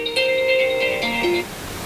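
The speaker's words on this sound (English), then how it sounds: "That was just my timer" A timer alarm goes off with a bright electronic ringtone-like melody of sustained tones, loud and close, lasting about a second before cutting off.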